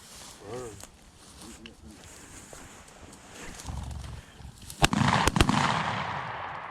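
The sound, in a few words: shotgun firing during quail hunting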